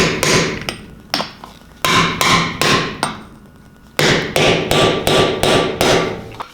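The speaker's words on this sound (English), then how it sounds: "then you just hammer that seal in" A hammer drives a seal into place with about fifteen sharp, ringing blows in quick groups, each strike loud and close, separated by brief pauses.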